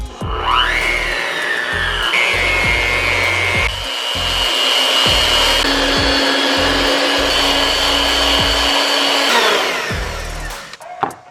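An electric mixer working a sticky, liquidy bread dough at home, a loud steady motor whine with shifting pitch and thumping beater knocks, stopping near the end.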